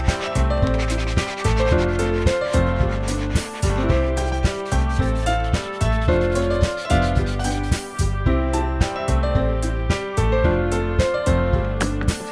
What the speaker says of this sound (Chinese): 打磨，打磨，打磨。